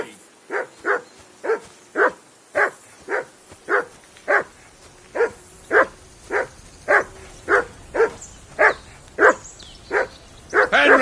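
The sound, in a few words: dog barking in video game Kingdom Come: Deliverance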